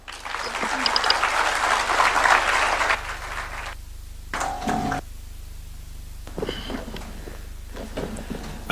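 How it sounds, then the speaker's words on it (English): Audience applause follows a presidential address at a Katiba Day symposium, a loud burst of many clapping hands that stops abruptly after about three seconds, followed by quieter room noise and shuffling as people sit down. "Another round of applause for His Excellency as we take our seats."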